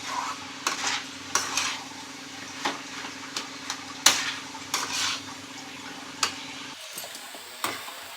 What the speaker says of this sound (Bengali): এইভাবে নাড়তে থাকবো